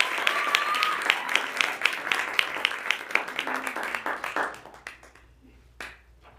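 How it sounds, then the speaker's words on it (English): An audience applauds Kyle James Deering at a speech event, a dense run of many hand claps that fades and thins out toward the end. "So please give a big round of applause for Kyle James Deering."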